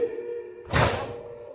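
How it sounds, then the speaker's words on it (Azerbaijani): A single soft chest-beat thud from mourners at a Muharram elegy gathering in Novosibirsk lands over a faint sustained sung tone, close and brief. "Yavaş sinə vur."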